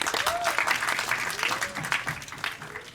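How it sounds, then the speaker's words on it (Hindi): Audience at the Border 2 film teaser launch claps loudly in a sustained round of applause while a voice talks over it. "भूषण जी को एक बार जोरदार ताली चाहिए"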